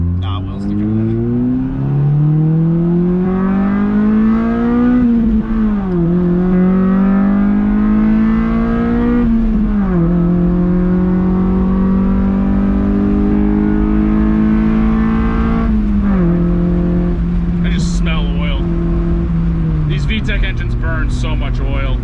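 A sports car engine, a Honda Civic del Sol or Mazda MX-5 Miata, revs high while driving, its loud droning note climbing and dipping through several gear changes, with people talking under the engine noise.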